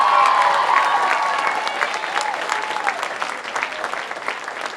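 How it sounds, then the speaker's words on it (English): A school theater audience applauds after a junior production of Matilda the musical, a dense, steady round of clapping from a large crowd that slowly fades over a few seconds. "Can we have another round of applause for that fantastic production?"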